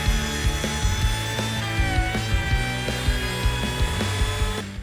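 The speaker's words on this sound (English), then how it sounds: "I'm actually going to go over this with a roundover bit just to make this a little bit easier on the hands." A router fitted with a roundover bit shapes pallet wood for a porch swing, giving a steady, loud, close motor whine with rasping cutting texture throughout, no voices.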